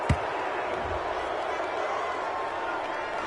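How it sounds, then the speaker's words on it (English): A stadium crowd in a PS4 American football game murmurs and groans in a steady broad roar after a penalty call, with a brief thump near the start and no distinct voices over it. "Oh, this crowd does not like that call."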